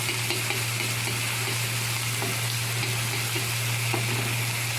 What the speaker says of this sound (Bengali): এটা একটু ভেজে নেবো তেলের মধ্যে